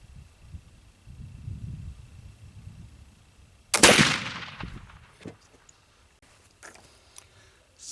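A single loud, sharp black powder rifle shot at an outdoor target range, set against quiet low rumbling and followed by a few faint clanks and handling noises.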